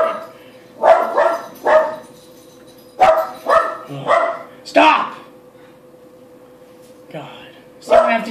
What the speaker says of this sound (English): Stop barking for no reason.